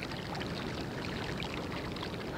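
Waterfall in the video game Bumpy Trot, a steady, dense rush of falling water heard close and continuous, with no talking over it.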